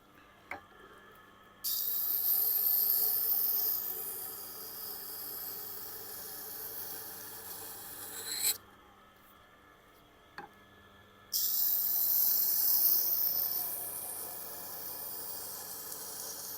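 A knife is sharpened on a Tormek sharpener, giving two long, steady stretches of close, bright hissing grinding. A few sharp clicks and a quieter gap separate the passes.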